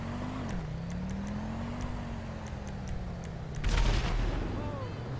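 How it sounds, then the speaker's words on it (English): An explosion bursts out in GTA Online, a loud broadband blast that rises suddenly over a steady car engine drone and a scatter of sharp cracks like distant gunfire, then rumbles on briefly. "I heard an explosion."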